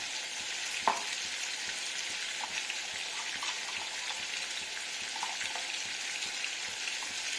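Spice paste fries in a pan with ridge gourd, a continuous fine hissing sizzle, close and even, with a few soft stirring knocks scattered through.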